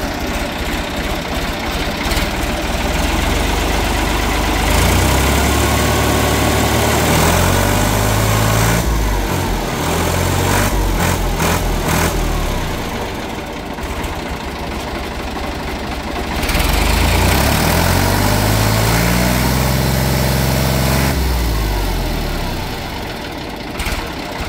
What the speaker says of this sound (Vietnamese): em mời chủ nhà lên nổ máy